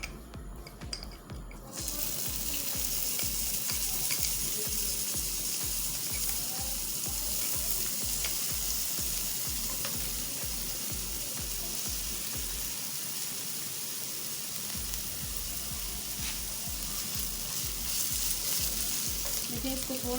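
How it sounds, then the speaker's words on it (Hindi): Ginger garlic paste sautés in a little oil in a pan, a loud continuous sizzle close up with a regular scraping, ticking rhythm of stirring throughout. "अब इसमें डाल देंगे हम जिंजर गार्लिक पेस्ट, तो इसको हमने थोड़ा सा सौटे करना है।"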